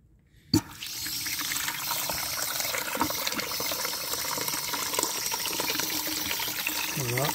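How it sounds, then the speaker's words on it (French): Water pours steadily into a drain for a pipe test, starting after a sharp knock and continuing as a close, constant rushing flow with a trickle at the end, with no talk. "Donc c'est parti, on va mettre l'eau."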